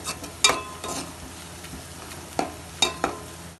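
Ginger and turmeric fry in oil in a pan with a soft steady sizzle, broken by scraping stirs of a spoon at irregular intervals.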